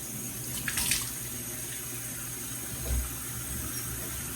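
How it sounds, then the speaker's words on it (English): Tap water runs steadily into a bathroom sink as a constant close hiss, with a couple of brief clatters over the flow and no talking. "Shut the water off."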